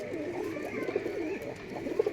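A pair of white pigeons, a male and a female, coo softly and repeatedly up close, with low throaty calls rising and falling over a steady, busy background.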